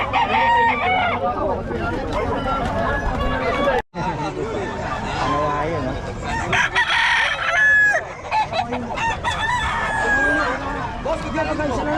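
Roosters and brood cocks at an outdoor gamefowl sale crow repeatedly and cluck over a constant babble of buyers and sellers chatting nearby, the birds loud and close.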